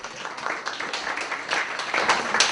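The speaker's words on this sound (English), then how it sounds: "That's a round of applause for 4 years" Comedy club audience applauds briefly, a short burst of clapping that swells toward the end, moderately loud.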